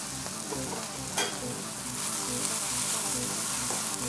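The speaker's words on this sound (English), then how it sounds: "We're gonna start by cooking a half an onion diced into little bits." Diced onion and peppers fry in a hot pan for chicken fried rice, a steady close sizzle with stirring and scraping running the whole time and one brief louder scrape partway through.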